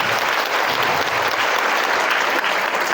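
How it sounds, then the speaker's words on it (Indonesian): An audience at a motivational seminar at an Islamic institute in Metro, Lampung breaks into dense, sustained clapping that carries evenly from start to finish, loud and close, with no voices standing out. "Tepuk tangan buat kakak kita."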